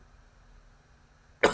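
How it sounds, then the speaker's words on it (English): A single sharp, loud cough from a sick person bursts out after a stretch of near silence indoors. "Sorry, I have a really bad cough today,"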